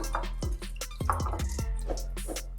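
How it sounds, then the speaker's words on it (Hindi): Vinegar, about two tablespoons, goes into a chicken marinade for a Zinger-style burger: wet liquid drips and squishy splashes in quick irregular bursts, close and moderately loud, with a steady low hum beneath and no talking. "अब तकरीबन 2 खाने के चम्मच हम इसमें सिरका डालेंगे और इसे फिर से मिक्स कर लेंगे।"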